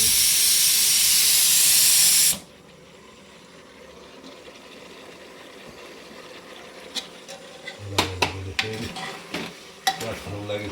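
Onion and garlic stirred in a cooking pan: a loud, steady sizzling hiss for the first couple of seconds drops to a quiet simmer, then sharp scraping clinks of a utensil against the pan come near the end.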